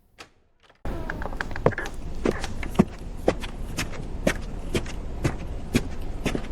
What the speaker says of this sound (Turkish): Adım sesleri duydum.